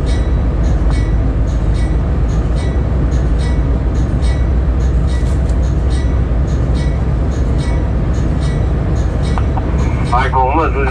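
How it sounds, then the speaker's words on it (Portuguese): A general freight train of 14 wagons shunts toward a switch at Pedra do Sino, giving a loud, steady rumble and rolling clatter throughout, with radio talk heard over it. "Michael, PN está livre, 14 vagões, aproxima de chave, entendeu?"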